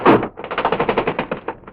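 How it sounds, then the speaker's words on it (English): Radio-drama sound effect of a window shade unwinding, a quick close rattling clatter of rapid ticking bursts lasting under two seconds, heard alone. "have you ever wondered what makes that shade unwind?"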